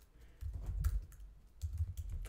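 Keys tapped on a computer keyboard while CSS code for a rotate effect is entered, two short bursts of close, soft clicking separated by a brief pause.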